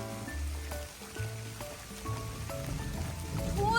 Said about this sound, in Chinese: 突然就下了这么大的雨